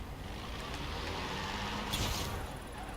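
A car engine in the racing game Forza Horizon 4 gives a deep, steady droning rumble like a big heavy truck, held at an even level with a brief brighter whoosh near the middle.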